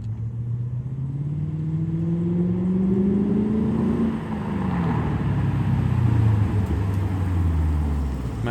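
Lexus IS 500 fitted with an A'PEXi N1 titanium exhaust, a deep V8 rumble swelling and falling as the engine revs and the car moves, loud and steady throughout with no talk.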